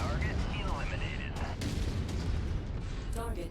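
Autocannon fire in a MechWarrior 5 battle, heavy booming shots pounding in a dense continuous barrage, loud and close, with a voice speaking over it.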